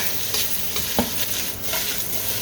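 Small-cut carrots stir-frying in a wok, a loud continuous sizzle with quick scraping stirs and light clatter, close up and without talk.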